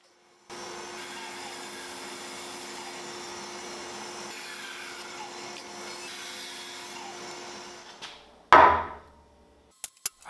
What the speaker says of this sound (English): I'm cutting the bulk of the material off with the bandsaw